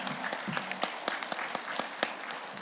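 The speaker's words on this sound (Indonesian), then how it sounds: "Alhamdulillah, tepuk tangan buat Ibu Maharani." A modest crowd at a GP Ansor gathering in Minahasa claps in scattered, uneven applause, fairly quiet and somewhat distant, with a voice faintly audible underneath.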